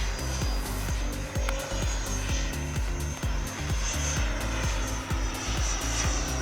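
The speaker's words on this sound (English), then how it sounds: "Really a nice flying plane." An AeroFoam Albatros L-39 RC jet with a 105mm electric ducted fan flies overhead, giving a loud, continuous whine and roar that holds steady for the whole stretch, with no talking.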